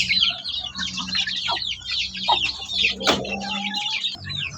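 Month-old native chicks peeping and clucking in a busy chorus of high chirps, close by, with a brief thump partway through.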